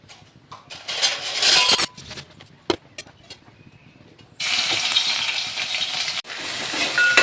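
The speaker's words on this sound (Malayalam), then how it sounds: "ആവശ്യത്തിന് വെളിച്ചെണ്ണ ഒഴിച്ച് കൊടുത്തതിന് ശേഷം നമുക്ക് ഇഞ്ചിയും വെളുത്തുള്ളിയും കൂടി പേസ്റ്റ് ചതച്ചതിട്ട് കൊടുക്കാം" Ginger garlic paste drops into hot coconut oil in a pan for a Kerala-style beef curry, with loud bursts of frying sizzle broken by quieter pauses and clicks, then a sustained sizzle.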